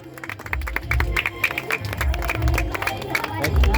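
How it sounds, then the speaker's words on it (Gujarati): A group of people claps in quick repeated bursts over a low, thumping music bed, with voices and crowd chatter underneath. "તાળીઓ પાડી નાખો."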